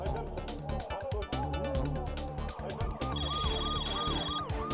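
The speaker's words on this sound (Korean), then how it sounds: "한밤중 화재 사이렌이 시끄럽게 울리고 있습니다." A loud fire siren wails in repeating rising and falling sweeps at a night fire in a multi-family house in Gangseo-gu, with dense noisy activity around it.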